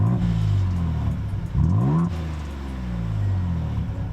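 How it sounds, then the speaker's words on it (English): A 2022 Ford Bronco Raptor's true dual exhaust with active valves revs steadily, a deep rumbling idle that surges into a brief rising blip midway before settling back to a loud, close drone. "if that exhaust note doesn't satisfy, there are others"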